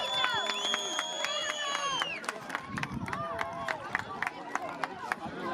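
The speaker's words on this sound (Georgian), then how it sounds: "აბა ახლა განსაკუთრებული ტაში და პირველი ადგილი ტორპედო." A crowd gives scattered, then steady rhythmic clapping for Torpedo, the first-place team at an under-11 youth event, while an announcer's voice speaks over it.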